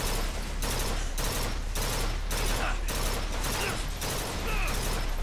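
A turret in Bioshock Infinite fires sustained bursts of gunfire, loud, dense and continuous, with rhythmic pulses roughly every half second and no pauses.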